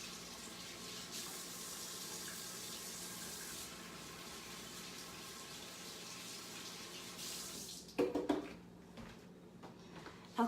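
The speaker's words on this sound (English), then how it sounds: "I just wanna wash my hands real quick" A kitchen tap runs in a steady, fairly faint stream into a sink during handwashing, then stops near the end with a few splashes and clunks.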